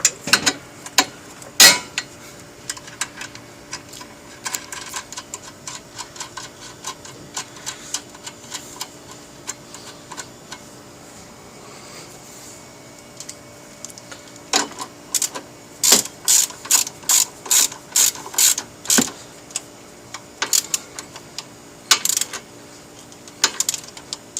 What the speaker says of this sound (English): So let me jack that up.